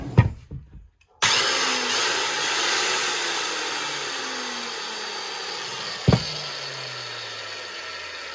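A salvaged power saw, missing its nut, runs steadily and loud for several seconds after a burst of handling noise and a brief silence, its motor hum holding constant with one sharp knock partway through.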